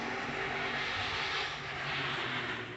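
A vehicle engine held on the rev limiter while driving through town, a loud, steady, sustained high-revving roar that fills the whole stretch without a break.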